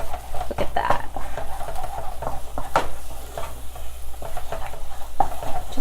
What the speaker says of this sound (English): now you just have to stir, stir, stir for it to become like one big ball